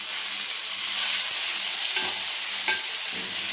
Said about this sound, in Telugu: ఆనియన్స్, టమాటాలు వేగిపోయినాయి